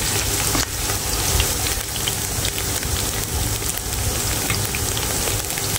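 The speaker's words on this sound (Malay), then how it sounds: "Tapi kalau basmati ni bagusnya kita tumis macam ni." Loud, dense sizzling fills a pan where rice is sautéed for basmati nasi lemak, a continuous close crackle holding steady for several seconds with no talk.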